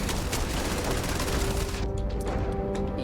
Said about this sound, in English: Are they shooting with stun guns?